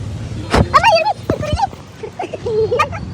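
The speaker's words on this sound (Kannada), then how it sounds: "ನಾಯಿ" A dog gives quick yips and short barks nearby during a family outing, mixed with people talking.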